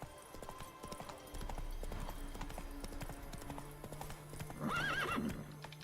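Roach, the horse in The Witcher 3, galloping with rapid rhythmic clip-clop hoofbeats, then a clear whinny near the end; game music and effects run underneath.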